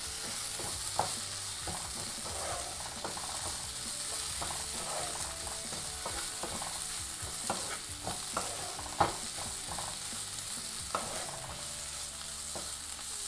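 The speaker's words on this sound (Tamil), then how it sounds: "இப்போ இந்த மசாலாவை வந்து நல்லா மிக்ஸ் பண்ணி விட்டுட்டு ஒரு 2 நிமிஷம் இதை நல்லா வதக்கிடலாம்." Masala for Guntur chicken sautéing in a pan, a continuous close sizzle broken by frequent scraping and clinking stirring strokes at an uneven rhythm, with no talking.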